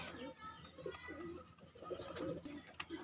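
Pigeons coo in soft, repeated bursts at close range, with low throaty calls rising and falling over faint background noise.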